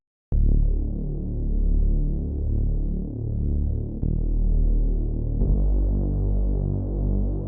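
Reese bass synth patch with a sub oscillator adding low weight, heard as a steady, loud, throbbing low drone that holds on without pause, with slight shifts in its pulsing texture partway through.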